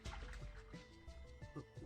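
Water floods into an underwater facility in the Ever17 game, a steady dense rush of flowing, trickling liquid with dripping and gurgling throughout, loud and continuous under a low background hum.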